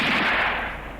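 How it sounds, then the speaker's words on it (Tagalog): A gunshot sound effect in an Ilocano-language audio drama: one loud, broadband blast that decays over about a second, heard alone with no voices. "Putok ti paltog da ijay."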